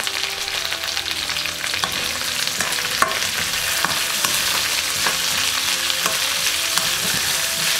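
Seafood and celery stir-fry in a hot pan with bell pepper and sesame oil, a loud steady sizzle with scraping and clattering of the utensil throughout, nobody speaking.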